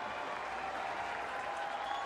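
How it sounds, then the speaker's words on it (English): Texas Longhorn fans at a college baseball game against Stanford, a steady wash of distant crowd cheering and applause held at an even level throughout. "Longhorn fans trying to cheer him on."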